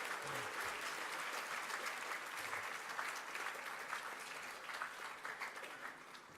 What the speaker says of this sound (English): We can give these learners a round of applause, please.